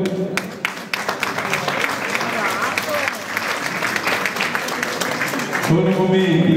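A crowd at an exhibition event at the Province of Foggia applauds steadily and loudly to welcome an official, with dense clapping throughout and a voice starting to speak at the end.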